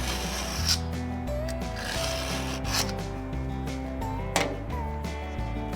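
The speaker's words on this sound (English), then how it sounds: "we're gonna take our knife saver and we're gonna go across all 4 blades to sharpen them" Knife saver sharpener drawn across the four blades of a Brush Bandit 1580xp chipper, giving repeated rasping strokes over a steady tonal machine hum, close and fairly loud.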